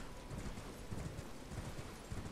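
Horse hooves galloping in the video game Elden Ring, a fast, steady rhythm of soft thuds that repeats evenly under a dense background bed, with no voices.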